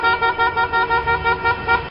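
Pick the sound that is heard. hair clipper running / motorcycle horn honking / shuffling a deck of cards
motorcycle horn honking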